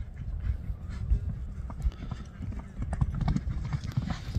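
An Arabian horse trots, its hooves clip-clopping in a quick, uneven rhythm at close range, under ongoing talk and outdoor background noise.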